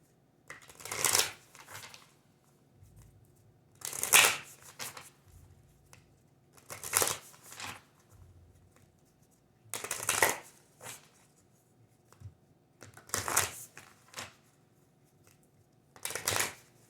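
A deck of self-care oracle cards is shuffled in six separate bursts of crisp riffling, each lasting about a second, with quiet gaps between them and no voices.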